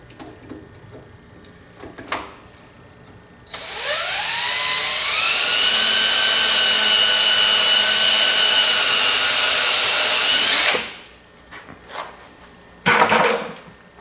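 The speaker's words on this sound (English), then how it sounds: "drill another hole" A power drill whirs up sharply and runs steadily at high speed for several seconds, loud and close, drilling a hole during an AR-15 gas block install on an M&P15, then stops; brief clicks before and after.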